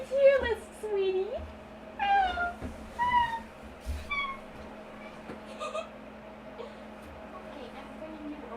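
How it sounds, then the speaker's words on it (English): A pet cat named Wendy meows repeatedly indoors, a series of close, plaintive cries spaced a second or so apart, with a person's voice talking between them. "Welcome the new guest, my cat!"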